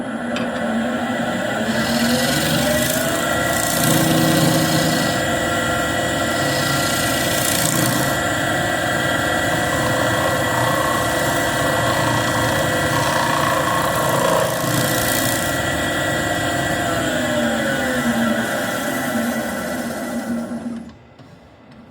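A bowl scraper lightly smooths a turned wood surface on a spinning lathe. The motor gives a steady, loud mechanical drone with a faint rubbing texture, continuous for about twenty seconds before it cuts out.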